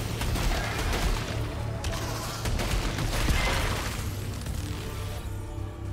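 A grenade launcher fires in the video game Returnal, a dense, continuous barrage of booming blasts and crashing impacts layered under busy game action throughout.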